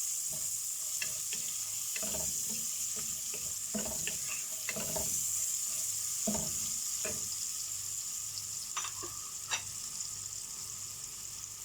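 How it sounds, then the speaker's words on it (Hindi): Sliced medium onion fries in a pan with garam masala for chana pulao, giving a steady soft sizzle broken by scattered stirring scrapes and clinks, close by and with no talking. "अब इसको फ्राई करना है जब तक ये लाइट पिंक कलर ना हो जाए।"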